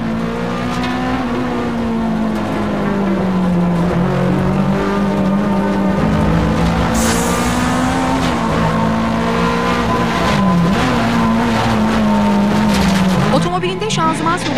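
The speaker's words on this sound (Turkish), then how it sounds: "Şimdi 16 Şubat'ta Renault 9'da Nubex yağları adına yarışan Uğur Kızıl'ın otomobilindeki kameradan yarışın ilk bölümlerini izliyoruz." A Renault 9 rally car climbs a hill in a 2008 Istanbul hill-climb race with a gearbox problem, heard from inside the cabin: the engine drones loud and close throughout, rising and falling through gear changes, with commentary talking over it.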